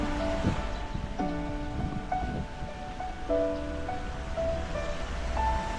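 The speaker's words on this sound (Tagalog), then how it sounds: "Oh, may maliit na ilog." A small river at Nan Lian Garden in Hong Kong flows with a steady, soft rushing wash, scattered tonal notes drifting above it and no voices.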